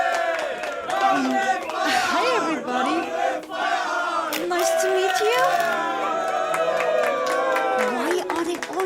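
A crowd of puppet characters cheers and shouts together at a puppet show welcoming a special guest, a dense roar of many voices with a single voice greeting them over it.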